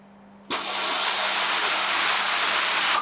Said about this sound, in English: This is the sound of the compressor.